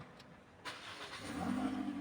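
A grey-black used Toyota Altis starts with a push-button start, a brief crank followed by the engine catching and settling into a steady, building idle heard close by.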